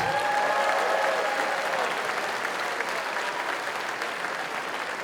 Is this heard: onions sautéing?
no